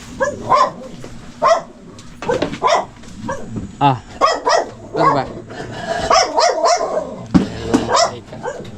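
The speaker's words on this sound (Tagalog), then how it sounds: "Kalma na yung aso." A dog barks in short bursts amid overlapping conversation nearby, voices and barks trading back and forth throughout.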